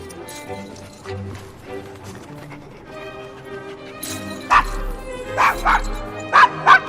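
Dog barking in the Assassin's Creed Syndicate video game, set in the rough Devil's Acre district of London: several short, sharp barks in the second half, over game music and ambient sound.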